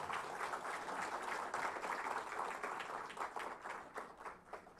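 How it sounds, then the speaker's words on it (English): A crowd applauds at the inaugural ceremony of the 36th International Geological Congress, a steady, fairly faint wash of clapping that holds evenly for several seconds without voices. "Can we make it louder with a huge round of applause coming from everyone"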